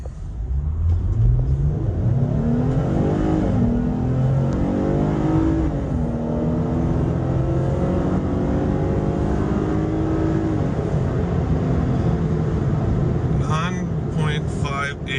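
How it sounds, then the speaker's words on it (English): A 285-horsepower 6-cylinder truck on 37-inch tires accelerating hard from a stop, the engine note climbing through rising sweeps with gear changes, loud and close, ending in a steady roar with a few clicks. "I'm just going to release the brake and punch it."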